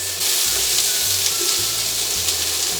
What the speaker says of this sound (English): we just want these onions to caramelize